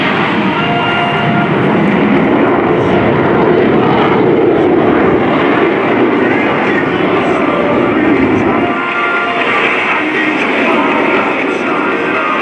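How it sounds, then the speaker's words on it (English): US Navy Blue Angels jets on an opposing knife-edge pass at the 2017 NAS Oceana airshow, heard as a loud, continuous roaring jet rumble that persists throughout, with its low end dropping slightly near the end. "Commander Weiser and Lieutenant Davies will roll their aircraft to 90 degrees angle of bank and push forward on the stick as they perform the opposing knife edge pass"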